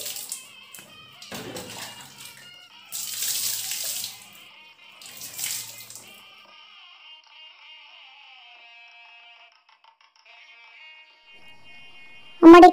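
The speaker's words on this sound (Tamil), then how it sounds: "ஆ இப்போ தண்ணியை ஊற்றுங்க." Water is poured in short splashing bursts during a miniature toy ceremony, soft and close, with quiet pauses between pours and a sharp sound at the very end.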